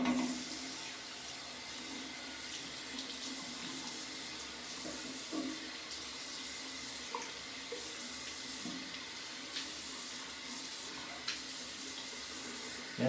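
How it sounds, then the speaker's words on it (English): Tap water runs steadily into a bathroom sink, rinsing after a wet shave with a Feather SS razor, a faint continuous splash with small clinks and no voices. "We'll rinse and see what that feels like."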